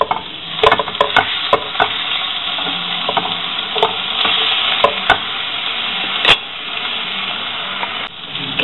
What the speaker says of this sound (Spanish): Está cociendo la carne, ¿qué hago? Vamos a darle otra vuelta.